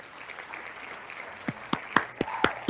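About six separate hand claps from an applause sound effect ring out in a loose, even rhythm, close and crisp, after a few moments of quiet murmur.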